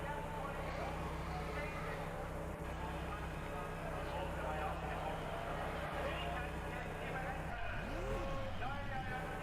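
A race car's engine keeps running after the car beaches in the gravel trap at Laguna Seca in a racing video game. The loud, steady engine drone continues under a commentator's voice, and a revving sweep comes near the end.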